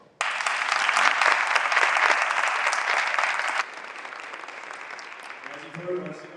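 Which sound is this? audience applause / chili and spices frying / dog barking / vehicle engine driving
audience applause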